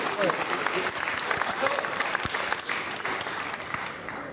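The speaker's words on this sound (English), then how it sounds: "And I think it deserves a cheer." A talk-show audience breaks into dense, sustained applause with scattered cheers, loud and close, with a voice speaking briefly over the clapping as it gradually thins out.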